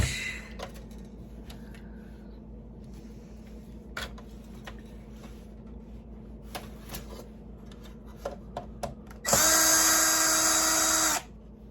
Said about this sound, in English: You have to unscrew the 4 screws back here to get the power supply out.